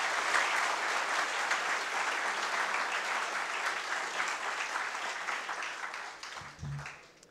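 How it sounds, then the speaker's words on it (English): Audience members at an expert session on climate change applaud themselves. The clapping is a sustained, even wash that holds steady before fading, and a brief low thump sounds near the end. "Why don't you clap for yourself?"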